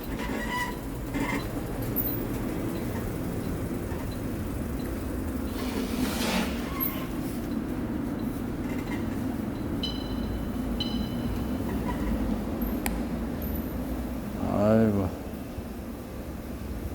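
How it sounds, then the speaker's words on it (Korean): A subway station with a train passing, heard as a steady low rumble and roar that runs throughout, with scattered clanks and a brief squeal near the end. "지하철역이 참 마음에 든단 말이야"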